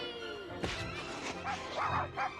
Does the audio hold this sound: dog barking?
yes